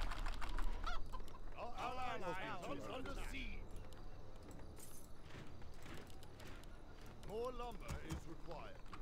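Honking and clucking goose calls from a goose fight in the video game Werewolf Transylvania, in quick harmonic bursts over a busy game-sound bed, with a second cluster of calls near the end; a person talks over it.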